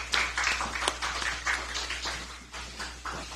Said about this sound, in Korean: 목도리를 메어주시면 함께 박수를 부탁드리겠습니다.